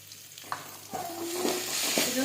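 Onions and curry leaves sautéing with ginger garlic paste in a pan for a vegetarian eeral gravy, a soft sizzle under a few scraping stirs of a spoon.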